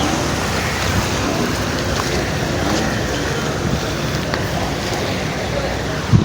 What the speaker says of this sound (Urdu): برسات برس رہی ہے